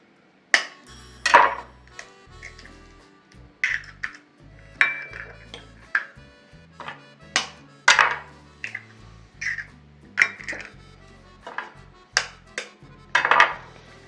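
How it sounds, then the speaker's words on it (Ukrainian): Sharp clinks and taps of eggs being cracked against a bowl recur at irregular intervals, interspersed with quieter handling noises, close by in a quiet kitchen. "Вибиваємо яйця."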